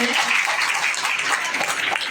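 Dense audience applause at a women's conference held at a school, steady and loud throughout, with many hands clapping together.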